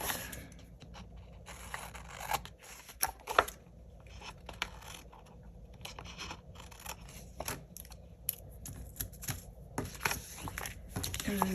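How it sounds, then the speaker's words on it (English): Scissors snip through planner stickers in a run of small, irregular cuts and rustles, close by, with light handling of paper and no talk. "And then I am going to cut these off."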